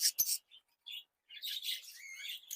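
Caged birds in a pet bird shop in Narayanganj give a sharp call, then scattered short high chirps and a burst of busy twittering, close and fairly loud.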